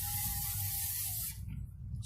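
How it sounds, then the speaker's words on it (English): Pam cooking spray misted onto a backyard cooking surface: a close, continuous hissing spray lasting over a second, then cutting off to quieter background with a faint rattle. "Spray that up a little bit."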